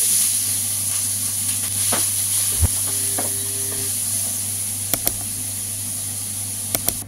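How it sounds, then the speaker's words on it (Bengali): Cumin seeds and onion fry in hot oil with dried chilli, making a close, continuous sizzle with a few sharp clinks and taps of a utensil against the pan and no talking. "তেলটা গরম হয়ে গেছে, জিরা ঢেলে দিই, পেঁয়াজ"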